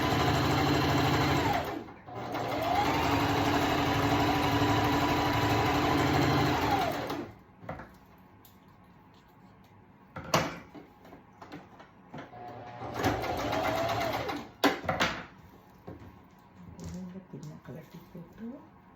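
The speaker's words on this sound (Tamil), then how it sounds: "இது லைனிங் ஸ்டிச் தான் நான் இப்போ போட்டேன்" Sewing machine running a lining stitch, loud and steady for about five seconds, then quieter scattered handling noises, then a second shorter burst of stitching, with a voice speaking in between.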